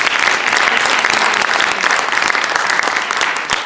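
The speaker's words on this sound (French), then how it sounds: "Je crois qu'on peut vraiment les applaudir." A theatre audience applauds the actors of the play Fric Frac, loud, dense clapping from many hands close by, sustained and even throughout the short burst.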